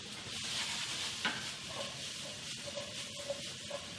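Vegetables and egg stirred and flipped around a hot pan at a breakfast cooking demo, with a continuous soft sizzle and occasional scraping and clinking of the utensil, fairly quiet and steady.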